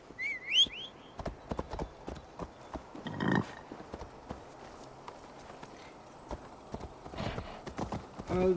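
A horse in Assassin's Creed Valhalla on PS5 whinnies with a rising, wavering neigh, then its hooves clip-clop in a steady, fast rhythm of sharp, close thuds, with a brief snort or rustle midway.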